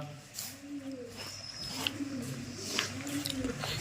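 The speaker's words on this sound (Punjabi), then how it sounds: "ਕਬੂਤਰ ਵੀ ਆਪੋ ਆਪਣੇ ਆਲਣਿਆਂ ਦੇ ਮੱਲ ਕੇ ਬੈਠ ਗਏ ਆ" Soft, low pigeon coos from birds settled in their nests on a very cold day repeat in a slow rolling rhythm, faint and fairly close, over quiet background noise.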